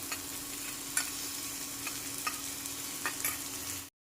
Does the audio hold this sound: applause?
no